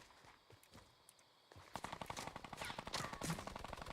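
Rapid gunfire in the Fortnite battle royale video game, a quiet stretch of scattered taps giving way to dense, repeated shots that grow louder and busier over the second half.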